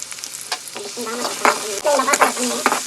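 Tomato, mint and coriander hit hot oil with cinnamon and cloves for a home pasta dish, making a busy sizzle with stirring scrapes and brief squeaky tones throughout.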